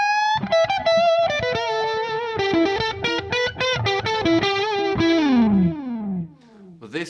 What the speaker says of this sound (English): See how much distortion you can get in this one.